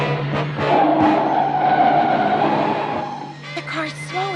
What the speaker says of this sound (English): The car's slowing.